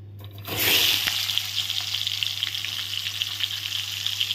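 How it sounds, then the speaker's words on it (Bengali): Pieces of pointed gourd drop into hot oil and fry with a loud burst of sizzling that settles into steady, crackling bubbling close by. "তেলের মধ্যে আমি পটলগুলো ছেড়ে দিচ্ছি।"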